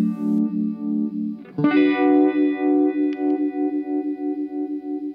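An electric guitar runs through a modulation effects pedal, a sustained chord swelling and pulsing with a wobbling chorus-like shimmer, restruck midway and ringing on with rhythmic throbbing.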